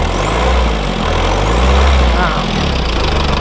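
An SUV engine runs with low rumbling, rising into a rev, close by, with outdoor noise and some voices underneath.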